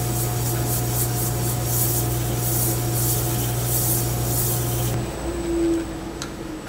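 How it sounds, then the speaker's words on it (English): Steel wool rubs steadily over a turned wooden piece on a lathe, a loud continuous abrasive hiss over machine hum and a running dust collector, easing off near the end. "I'm gonna just use some steel wool to do that"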